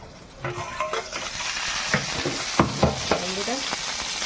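Bhetki fish paturi frying in a little oil in a covered pan, a soft steady sizzle under scattered clinks and scrapes of a utensil against the pan, close and moderately quiet.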